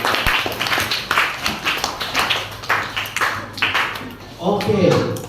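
A classroom of students claps hands together in a lesson, a run of sharp uneven claps building over several seconds, with a louder burst of voices and claps near the end.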